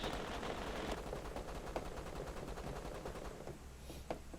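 Rapid automatic gunfire from a first-person shooter game, a dense continuous rattle of shots over a steady background roar, fairly quiet in the mix with no clear talking.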